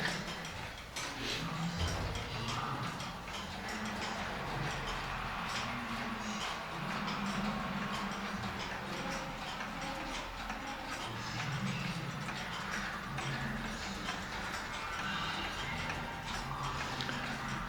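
Clocks tick steadily in a museum room full of clocks at Casa de la Zacatecana in Querétaro, a faint mechanical ticking buried in a dense, continuous room hum with no talking.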